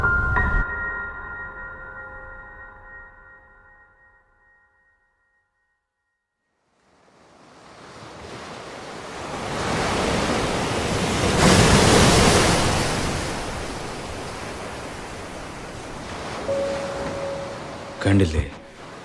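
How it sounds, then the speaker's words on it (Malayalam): Heavy ocean waves surge and crash in a dramatic anime scene, a loud roaring wash that builds and swells for over ten seconds after a quiet pause, with a drawn-out tone and a brief voice beforehand. "ഈ തിരമാലകളെ പോലും നിശ്ചലമാക്കാൻ എനിക്കാവുന്നില്ല"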